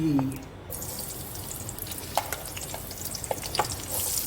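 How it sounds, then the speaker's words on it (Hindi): Chopped onions fry in hot ghee, giving a steady sizzle with scattered soft stirring clicks and a few louder scrapes near the end, heard up close with no talk. "ये मैं प्याज फ्राई करूँगी।"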